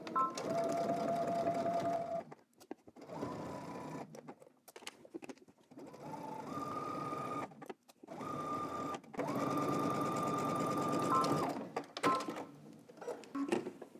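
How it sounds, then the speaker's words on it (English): A domestic sewing machine runs in several bursts of topstitching, a fast steady whirring hum broken by short pauses between seams. "let's head to the sewing machine and we're gonna top stitch"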